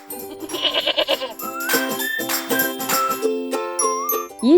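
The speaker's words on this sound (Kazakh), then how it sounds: "Ешкі де маңырайды." Domestic goat bleating in several wavering calls, close and clear, with a tinkling bell sounding alongside.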